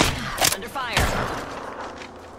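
Gunfire in the Apex Legends battle royale game, a couple of sharp close shots followed by a rattling burst, with a game voice line over part of it.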